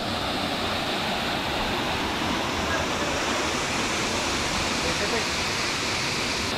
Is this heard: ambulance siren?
no